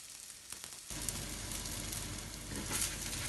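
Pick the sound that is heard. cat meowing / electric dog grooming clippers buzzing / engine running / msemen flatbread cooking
msemen flatbread cooking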